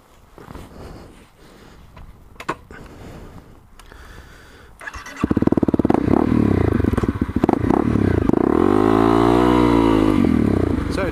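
Honda CRF250L motorcycle setting off and ridden, with faint clatter and handling sounds first, then a loud close engine note rising and falling through gears.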